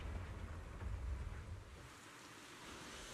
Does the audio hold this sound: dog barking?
no